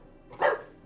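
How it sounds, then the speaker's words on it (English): A dog gives one short, muffled bark somewhere in the room, fairly quiet and on its own, while a TV episode is being watched. "Shut up, dog."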